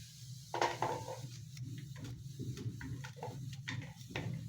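A knife slices washed okra (ladies finger) crosswise into small pieces on a board, giving a run of quick, light, irregular taps and clicks, close and fairly quiet, with no talking.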